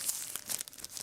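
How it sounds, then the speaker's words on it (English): Scissors cut through shrink wrap on a card deck box, giving quick, faint crinkling and snipping bursts close by in a short, quiet moment. "I'm probably gonna have to use scissors because the shrink wrap on these things is just ridiculous."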